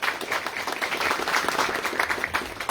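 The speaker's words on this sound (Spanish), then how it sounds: "Ante el aplauso, por favor" An audience at a cultural and environmental gathering applauds, a dense, sustained patter of many hands clapping with a steady level and no voices on top.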